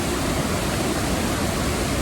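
Steady roar of a towering waterfall in Indonesia, dense broadband rush of falling water heard from a distance, constant and loud with no voices over it.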